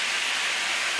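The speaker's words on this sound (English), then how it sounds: "there's a lot of noise going on with the frying" Onion sizzling and frying in a pan while a tater tot casserole is being made, a loud, steady, dense hiss that stays even throughout with no pauses or talk.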